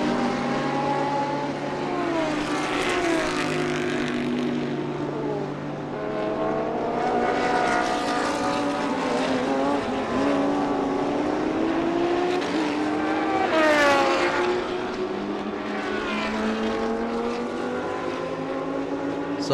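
Race cars, among them a Bentley, roar past on a track, with loud, steady engine noise rising and falling in pitch as cars sweep by, the loudest pass near the middle.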